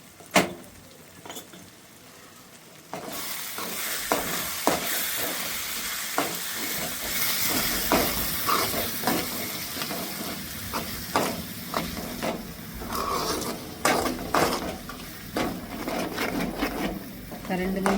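Onions and dried bombil fish fry in a pan with a steady sizzle, quiet at first and then louder, broken by repeated scraping and clicking stirs against the pan.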